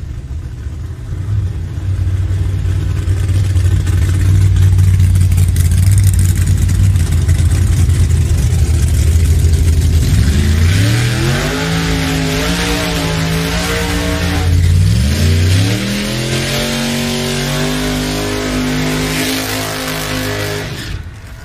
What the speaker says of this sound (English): Tony Wilson and Justin Bond firing up.